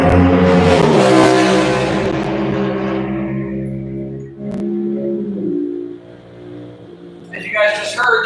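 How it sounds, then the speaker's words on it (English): A motorcycle speeds past on an industrial road at roughly 75 to 80, a loud roaring engine sweep that fades off, with a second vehicle sound rising near the end. "He goes by on a motorcycle at about 75, 80"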